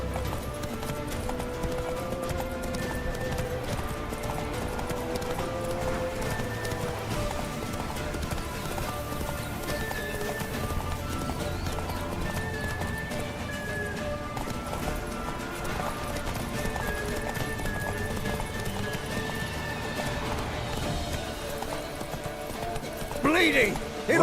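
Roach, a horse in The Witcher, clops along in a steady galloping rhythm under game music, with a voice speaking briefly near the end.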